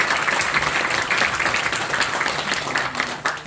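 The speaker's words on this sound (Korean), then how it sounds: "힘찬 박수 부탁드립니다." A crowd claps and applauds steadily and loudly for a few seconds, dense and sustained with no talking over it.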